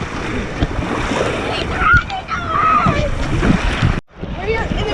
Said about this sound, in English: We're here in the middle of the waves.